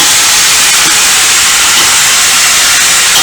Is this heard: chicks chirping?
no